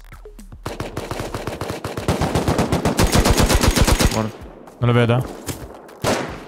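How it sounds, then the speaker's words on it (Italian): Rapid automatic AK rifle fire in the video game Rust, a long loud burst of closely spaced shots followed by two shorter bursts, with a voice speaking briefly between them. "spara un AK da lontano anche"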